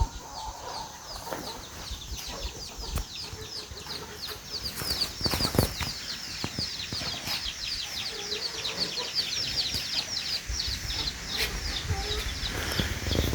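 Chickens clucking and calling around a traditional village farm near Parapat, a steady outdoor chorus of fowl with rooster-like calls over constant background insect or ambient noise, with no one talking.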